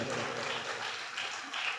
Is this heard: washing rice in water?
no